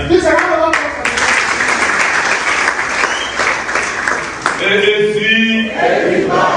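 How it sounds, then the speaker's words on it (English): A crowd applauds loudly at the AAC party presidential primaries in Abuja, with dense, sustained clapping throughout and some voices rising over it near the end. "Please, a round of applause for the"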